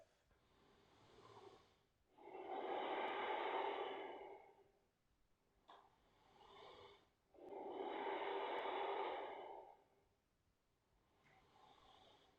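Deep, slow yoga breaths roll in two long, loud cycles, each a heavy airy rush through nose and mouth, separated by quieter gentle breathing, close and with no talking.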